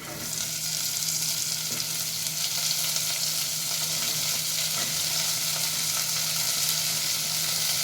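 Ginger and onions frying in oil, a strong continuous sizzle with faint stirring, steady and close, with no talking.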